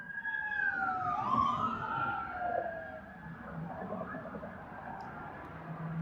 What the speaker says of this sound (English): You always got sirens cutting you off.